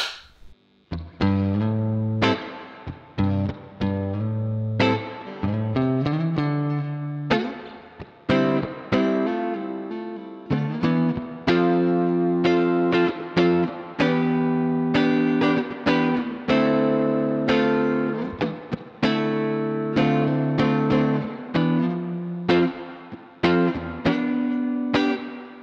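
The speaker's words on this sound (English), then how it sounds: "I think it kind of sounds like a plate reverb. I think it's listed as a spring reverb, but it has a platey kind of feel to me." Clean electric guitar through a Laney L5 Studio amp, bright switch on, with spring reverb set high, played as ringing chords and single notes that trail off in a lush wash of reverb.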